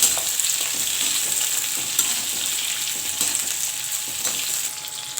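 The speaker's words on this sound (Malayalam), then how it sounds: "അതിനകത്തോട്ട് നമുക്ക് ക്യൂബ്സായി അരിഞ്ഞ ഉള്ളിയും ക്യാപ്സിക്കും കൂടെ 1-2 മിനിറ്റത്തേക്ക് വഴറ്റിയെടുക്കാം" Cubed onion and capsicum sauté in hot oil for a restaurant-style kadai mushroom masala, a dense, steady sizzle with occasional soft stirring scrapes, close and continuous.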